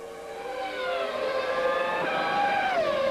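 Mika Häkkinen's Formula 1 car at qualifying for the 1998 Canadian Grand Prix, a sustained high-pitched engine scream that climbs steadily, then dips sharply near the end as it lifts off, with no talking.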